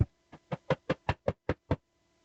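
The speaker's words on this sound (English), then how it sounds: "And you're knocking on the door." Knocking on a door, about nine evenly spaced, firm knocks in a quick steady rhythm, close and alone with no talk.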